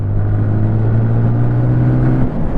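Engine of a 2024 TVS Apache RTR 180 2V motorcycle droning steadily as it pulls through the gears, a continuous low hum with a brief dip near the end, no talk.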